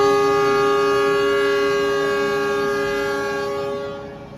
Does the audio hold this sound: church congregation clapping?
no